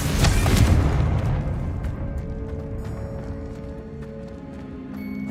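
Heavy explosive blast from a Bombarda or Confringo spell in Hogwarts Legacy, a loud booming burst up front that rolls into a long fading rumble with scattered crackles and debris clicks.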